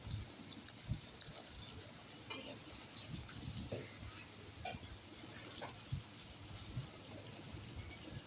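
Onion and shrimp fry in a pan with a steady, close sizzle, broken by the scrape and clatter of stirring at irregular intervals; no one speaks.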